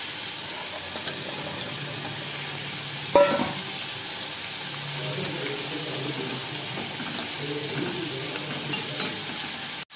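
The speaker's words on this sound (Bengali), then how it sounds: "দুপুরে রান্না হচ্ছে বেলে মাছ দিয়ে আলু দিয়ে" Fish curry with potatoes cooking in a pan on a home stove at lunchtime, giving a steady close sizzle and frying hiss with occasional stirring scrapes and a brief clatter near the three-second mark.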